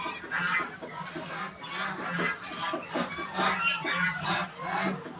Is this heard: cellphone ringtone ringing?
no